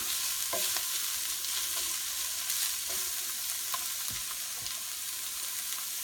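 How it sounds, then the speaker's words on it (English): Onions sizzle and fry over medium heat in a pan, a steady broadband hiss with soft stirring scrapes and occasional clicks, close and continuous with no talking. "cook the onion till it's just about translucent."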